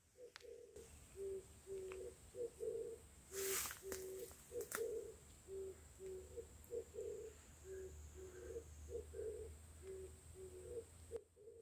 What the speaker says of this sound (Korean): 산 비둘기 소리야.